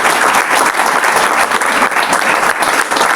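A seminar audience applauds loudly and steadily for the whole stretch, a dense wash of many hands clapping with no pauses.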